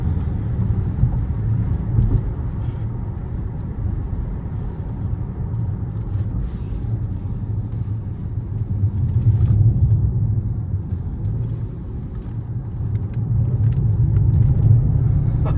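A steady, deep supercharged V8 engine rumble from inside a moving 2015 Jaguar XJL sedan, cruising with a low, smooth drone that swells slightly as it accelerates.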